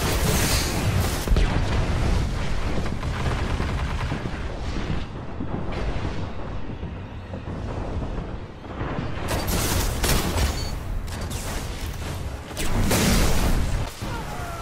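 Heavy artillery in a combat video game booms and rumbles almost without pause, dense loud blasts layered over one another, with a sharp burst of fresh impacts toward the end.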